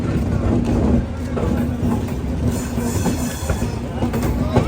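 A train rumbles and clatters at New Bongaigaon Junction station in Lower Assam, a steady loud low roar of wheels and carriages with faint squeals, while voices murmur in the background.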